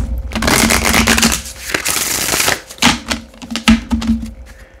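A deck of oracle cards is shuffled by hand in a dense, crisp riffling rush, then breaks into separate rapid flicks and taps, all close and fairly loud.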